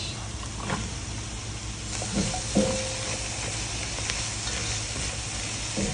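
Onion and carrots sauté with a dash of annatto powder in a pan, a steady close sizzle with occasional scraping stirs and no talking.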